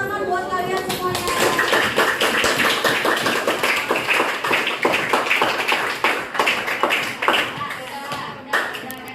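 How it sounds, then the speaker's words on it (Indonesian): A classroom of students claps together in sustained applause at a school coaching session, a dense, steady patter of many hands that carries on for several seconds before thinning near the end. "berikan tepuk tangan buat kalian semuanya"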